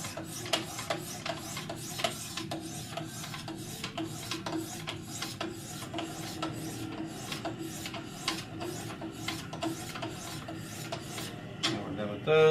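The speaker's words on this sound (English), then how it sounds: "So here we go with the 400 grit stones. And then the 600 grit." A knife is sharpened on a Wicked Edge system with 400 and then 600 grit stones, giving repeated rhythmic rasping strokes, close and fairly quiet, with a brief clatter at the end.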